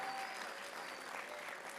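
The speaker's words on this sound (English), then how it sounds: "Give him a round of applause" Quiet applause from a school assembly audience in a hall, a steady wash of clapping heard from a distance and holding even for the short stretch.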